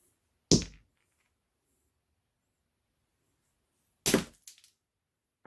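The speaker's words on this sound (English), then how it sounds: "That's a tough nut to crack," A black walnut shell being cracked at home, two sharp isolated cracks a few seconds apart, the second followed by small fragment clatter, close and otherwise silent.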